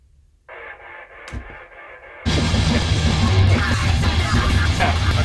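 A track starts with a quiet, muffled intro that gives way to loud, dense distorted heavy rock with full drums and guitars, and no talking over it.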